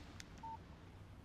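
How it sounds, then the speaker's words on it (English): A phone text message alert in the video game Alan Wake: a short, faint electronic beep-tone, a single brief chirp over a low background hum. "Text message from Barry."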